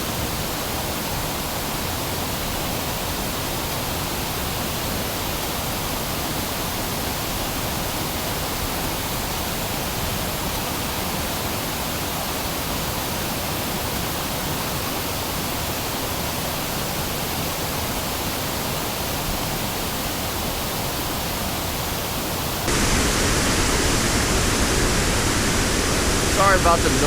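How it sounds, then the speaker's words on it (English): Water roars steadily in front of a dam on a river at Lockport, Manitoba, forming a loud, unbroken wash of noise that grows louder near the end. "Moved over in front of the dam and it's just loud."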